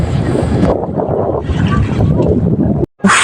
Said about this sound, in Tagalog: mudungka na ang amo ang pambot nga gisakyan